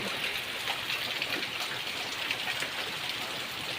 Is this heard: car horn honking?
no